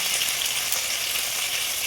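Continuous crackling sizzle of vinegar-soaked hasa-hasa fish frying in hot oil in a pan, steady and close, with no voices.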